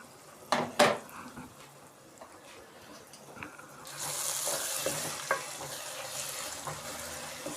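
A pot lid lifts off keema with peas, two sharp metallic clinks up front, then a soft steady sizzle of the minced meat frying, close and fairly quiet.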